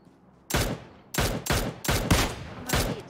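Gunfire in PUBG Mobile, with five loud, sharp shots spaced about half a second apart after a quiet start, each followed by a short echoing tail.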